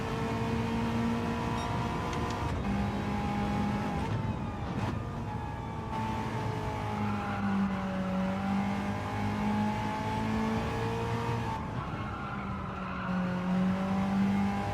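A race car engine revs and shifts in a racing video game time trial, a steady droning engine tone rising and falling in pitch with gear changes, continuous and unaccompanied by talk.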